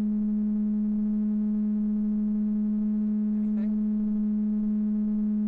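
A steady, loud humming musical tone from pipes driven over at highway speed holds one pitch with rich overtones, while a voice briefly speaks over it.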